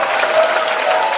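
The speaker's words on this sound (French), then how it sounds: "Acclamons Jésus-Christ." Audience applause at a Christian praise and thanksgiving festival, sustained and dense, filling the whole moment loudly and evenly without breaks.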